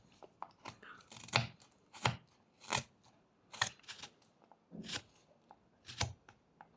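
A knife whittling a small wooden raccoon carving with sweeping cuts, a series of about ten crisp, close scraping slices at an uneven rhythm with quiet pauses between strokes.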